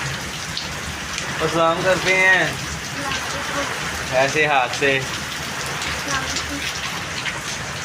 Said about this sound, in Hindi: बारिश काफ़ी तेज़ और काफ़ी हद से ज़्यादा ही हो गई है